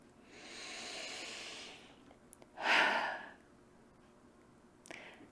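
Deep breaths are drawn during a tapping exercise: a long, soft inhale followed by a fuller, louder exhale, then a short faint breath near the end, with no speech.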